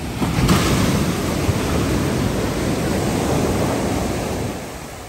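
Sea waves wash onto Kozhikode beach at night, a steady, loud, broad roar of surf with slight wind buffeting and no voices.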